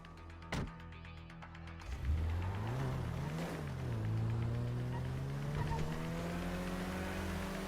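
A car driving in Grand Theft Auto V with a low engine hum that rises and shifts in pitch as it accelerates. Voices talk over it.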